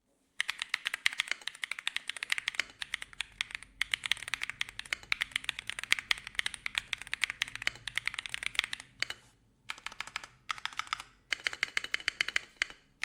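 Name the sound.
mechanical keyboard typing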